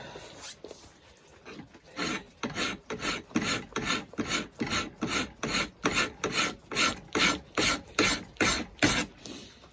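A hand file rasps across a knife blade in steady, evenly spaced strokes, about two per second, close and alone, building a rhythmic scraping pattern for a rifleman's knife.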